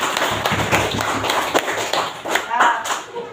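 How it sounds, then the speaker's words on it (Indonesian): A small classroom group claps for a student, a brief, close burst of uneven hand claps and taps lasting a few seconds with voices mixed in. "tepuk tangan buat dia."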